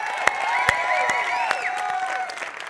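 An audience applauding the camera crew at a live show, with dense clapping, a few scattered sharp claps and some cheering tones.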